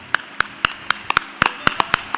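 A small scattering of claps at an awards dinner for a foundation's board of directors: about a dozen sharp, separate claps in an uneven rhythm, fairly close and clear, with no voices.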